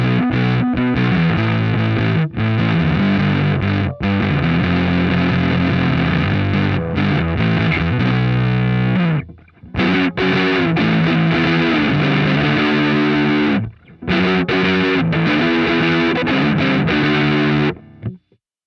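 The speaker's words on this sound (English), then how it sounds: "Let's have something nice and crunchy now." Crunchy, heavily distorted electric guitar recorded in GarageBand, loud and dense, with strummed chords riffing almost continuously and a couple of short pauses between phrases.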